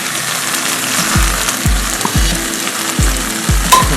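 Fried mushrooms are tossed into chilli sauce in a hot pan, a close, steady sizzle punctuated by a regular series of low thuds and scrapes as the spatula mixes every half second or so.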